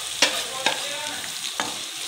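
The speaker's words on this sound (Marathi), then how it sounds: "अद्रक लसूण थोडंसं हलवून घेऊ। आता यामध्ये आपण कांदा टाकून घ्यायचा आहे।" Ginger, garlic and onion fry in a pan for chicken lollipop, a bright sizzle broken by three distinct spatula scrapes and clacks as the mix is stirred, close and fairly loud.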